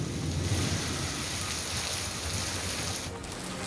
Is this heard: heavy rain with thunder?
yes